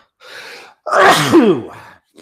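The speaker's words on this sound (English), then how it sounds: "I knew I had a sneeze coming." A breathy inhale followed by a single loud, forceful sneeze, close up, with a short trailing sound after.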